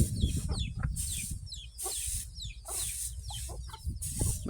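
Chickens cluck and squawk in a rural village yard, repeated short calls over a low rumbling background, moderately close and fairly quiet.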